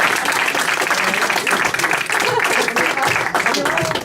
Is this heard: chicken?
no